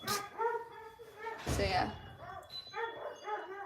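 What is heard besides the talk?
dog barking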